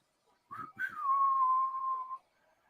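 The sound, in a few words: whistling imitation of Clint Eastwood western theme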